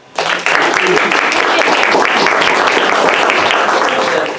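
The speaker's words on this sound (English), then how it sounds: "let's give Casey a round of applause." Audience applause at a Transformative Justice Center one-year anniversary gathering in Monterey, California: a loud, dense burst of clapping that starts sharply and holds steady for several seconds.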